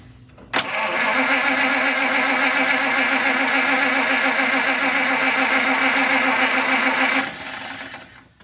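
A classic car engine that has sat too long is cranked over with a suspected faulty fuel pump, a loud, fast rhythmic starter churn running steadily for about six and a half seconds without catching.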